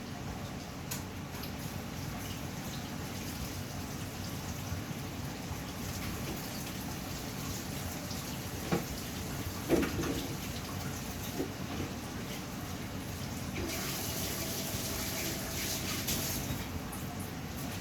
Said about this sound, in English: I'll rinse my hands off, or wash my hands.